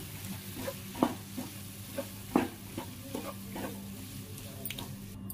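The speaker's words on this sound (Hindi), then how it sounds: "और इनको सबको अच्छे से मिक्स कर लेंगे।" Boiled potatoes stirred into tomatoes in a sizzling pan for a fasting-day potato dish, with a soft steady sizzle under irregular scraping stir strokes, a few sharper clinks standing out, and no voices.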